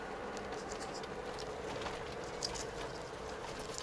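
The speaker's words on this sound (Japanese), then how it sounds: "しかし雨が降ります。" Rain falling steadily outdoors in Taiwan, a continuous soft patter with scattered brighter drops hitting surfaces, constant in level throughout with no talking.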